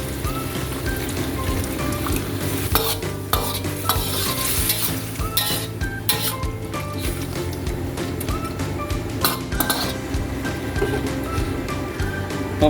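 Chicken afritada with heart and liver simmering in a pan after water is added, with steady bubbling and sizzling and a spoon stirring through the sauce in repeated scrapes, close and continuous with no talking.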